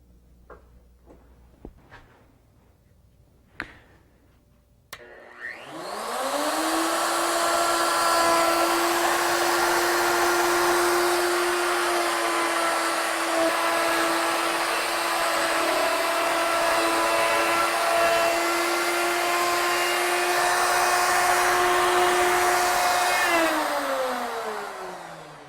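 Wood router cutting a rope twist into a wooden pen blank: after a few light taps, a loud steady high-pitched whine starts and holds for about twenty seconds, then spins down near the end.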